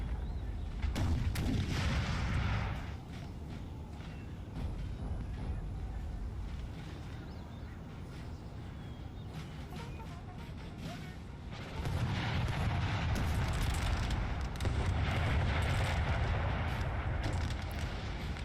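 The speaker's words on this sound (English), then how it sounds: "American artillery is trying to break a hole through the wall there." Artillery pounding a fort wall during a siege battle in Napoleon: Total War, repeated heavy booming blasts and rumbling impacts, loud at the start and again near the end with a quieter stretch of distant rumble between.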